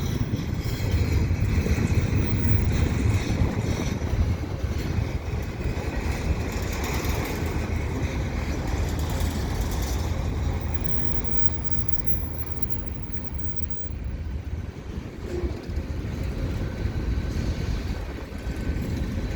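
CP freight train carrying auto racks rolls past at Dorval, slowed right down, giving a steady, low rumble with wind buffeting the microphone throughout and no talk.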